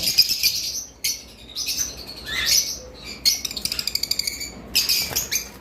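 Albino and violet lovebirds in an aviary chirp in sharp, high bursts, with rapid wing flapping in between. The calls are close and busy, and no one speaks.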